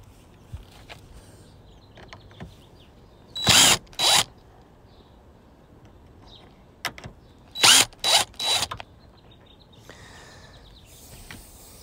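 Cordless power driver backing out screws from the T-top door seal of a fourth-generation Camaro, several short loud whirring bursts separated by quiet pauses, with faint clicks and distant birds between.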